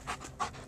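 A dog panting outdoors, two quick close breaths in a short burst with no voices over them.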